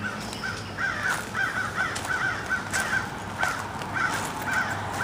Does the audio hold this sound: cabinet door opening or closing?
no